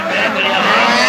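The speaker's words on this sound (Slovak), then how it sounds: "Motoristické podujatie plné adrenalínu, ako i zvuku silných strojov, prilákalo i desiatky divákov." Powerful snowcross racing machines roar loudly and continuously at a motorsport event in Orava, Slovakia, their engines producing a dense, broadband noise throughout.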